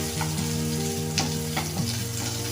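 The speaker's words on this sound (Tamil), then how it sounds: "ஒரு 20 பூண்டு பல் தட்டி வச்சுருக்கேன், அதை சேர்த்துடலாம். சேர்த்துட்டு நல்லா இதை ஃப்ரை பண்ணி எடுத்துக்கலாம்." About twenty crushed garlic cloves frying in a pan, a steady close sizzle with a few sharper crackles and stirring scrapes, alone without voices, over a faint tonal hum.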